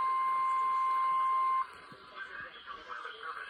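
A phone's emergency alert for a flash flood warning sounds as a steady loud tone that cuts off partway through, leaving quieter background sounds.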